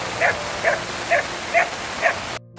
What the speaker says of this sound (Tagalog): May kahulong-kahol na aso.